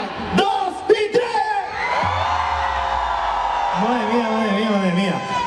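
A live concert crowd at an orchestra show in Silleda, Galicia, shouts together on a count of three. The loud, sustained roar runs over the band's held music throughout.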